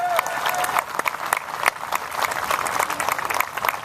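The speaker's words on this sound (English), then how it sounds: "let's give it a big round of applause to the Tea Party" A crowd at an outdoor Tea Party rally in Laishley Park, Punta Gorda, claps steadily throughout, a dense patter of many hands at moderate loudness without a break.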